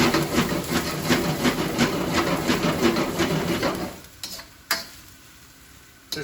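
Steak stir fry sizzling loudly in a pan as it is tossed and stirred, with a steady rhythmic shuffle of food against metal, then the hiss drops away and a couple of clanks follow near the end.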